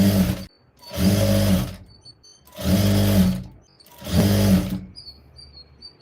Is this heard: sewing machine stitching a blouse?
yes